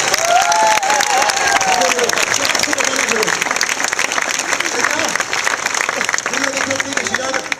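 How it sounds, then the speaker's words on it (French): Sustained applause from a large street-performance audience in Aurillac fills the clip, steady clapping with a few cheers and voices rising above it. "J'aimerais que tout le monde applaudisse très fort."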